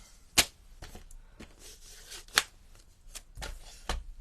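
Cardstock is trimmed for card making, giving a few sharp, close slicing strokes with brief rustles and quiet gaps between them.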